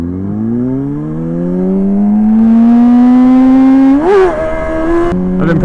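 A motorcycle engine revs up during wheelie practice, its note rising steadily and loudly, then wavering and blipping sharply before settling, heard close with wind noise around it.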